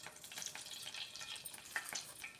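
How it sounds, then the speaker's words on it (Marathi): Mustard seeds and cumin frying in hot oil, a quiet, close crackling sizzle with small irregular pops and spits throughout. "तेल थोडंसं गरम झालं की टाकूया मोहरी. मोहरी व्यवस्थित भाजून घेऊ. मोहरी भाजली की टाकूया जिरी"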